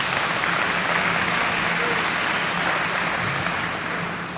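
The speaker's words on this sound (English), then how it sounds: "Give her a round of applause." Dense audience applause at a community legends event, many hands clapping steadily and loudly for a few seconds with a slight fade toward the end.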